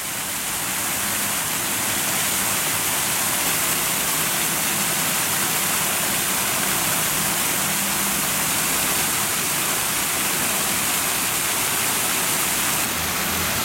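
Water sprays steadily from the partly frozen Prayer Fountain in Hiroshima's Peace Memorial Park in winter, a constant hissing rush of spray close by with no talk.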